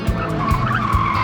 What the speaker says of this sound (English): Once again, the car gets up to 40 miles per hour